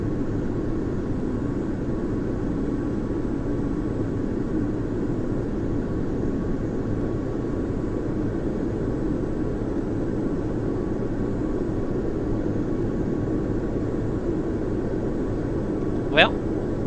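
A jet aircraft in a flight video game glides in to land, giving a steady, even engine and air rumble that drones throughout. A single short sharp tone sounds near the end.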